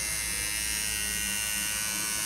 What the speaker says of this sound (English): That's the familiar sound of the old tattoo machine.